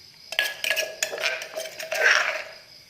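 Food is scooped onto a plate, with close, bright clinks of a utensil against the dish in a quick irregular series of knocks and scrapes over about three seconds.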